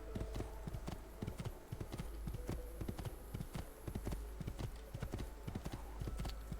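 Horse hooves clip-clop at a steady trotting rhythm across the Assassin's Creed 2 countryside, near and continuous over a low ambient hum.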